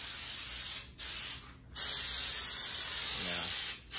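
A cheap eBay spray gun running on compressed air from a shop compressor gives a loud, steady hiss that cuts out briefly twice and stops near the end, with no speech over it.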